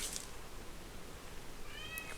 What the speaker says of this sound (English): Sorry if you hear the office cat.